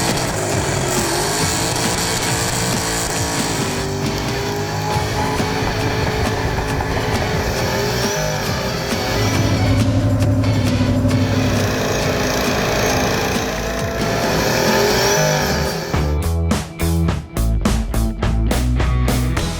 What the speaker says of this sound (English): welcome to the 2015 Roush Burnout competition